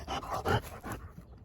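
Dogs pant close by while being walked outdoors, quick breathy bursts in an uneven rhythm that fade toward the end.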